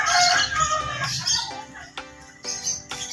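Chickens cluck and give short squawking calls around a checker-patterned fighting rooster at a cockfight in Barangay Paltok, with bursts of wing flapping, all close and fairly loud.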